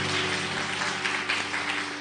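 Applause from a church congregation after a prayer, a dense, even wash of clapping that holds steady for about two seconds without voices.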